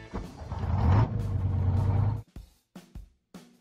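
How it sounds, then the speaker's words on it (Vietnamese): A cartoon bus from a children's animated vehicle puzzle, a loud low engine rumble lasting about two seconds that stops abruptly, followed by a few short thumps and clunks. "Xe buýt,"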